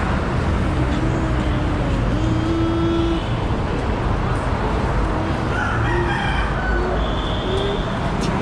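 A rooster crows several times on a Manila street, its calls rising over constant traffic and engine noise, along with a few scattered clucks.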